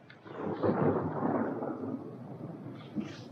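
Rolling thunder before a storm, a loud low rumble that swells within the first half second, holds through the middle and fades, with a brief renewed surge near the end; no voices.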